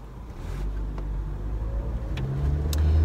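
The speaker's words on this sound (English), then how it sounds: "hang on, there's a lot of traffic." Road traffic passes outdoors, a steady low engine rumble from cars that swells and grows louder toward the end as a vehicle nears.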